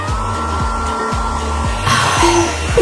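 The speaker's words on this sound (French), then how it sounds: "Voilà le sèche-cheveux." A hair dryer runs close and loud with a steady whirring roar that grows brighter and stronger partway through, with no talking over it.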